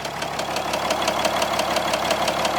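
A dually pickup truck engine idles with a rapid, regular metallic knocking ticking over a steady low rumble, close and continuous; the knock appears once the engine warms up.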